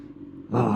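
A Kawasaki ZX-6R engine idles low, then surges into a loud, close rumbling roar as the bike pulls away in first gear at about 15 mph.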